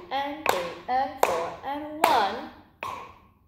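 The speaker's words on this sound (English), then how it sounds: "let's clap and count it" Hands clap four sharp, evenly spaced beats, with a person counting aloud between and over the claps.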